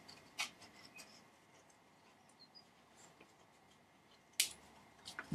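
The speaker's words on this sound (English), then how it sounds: "Things like this sometimes are a bit quicker with scissors anyway, so snip" Two faint, crisp snips of scissors cutting paper, far apart in an otherwise quiet room.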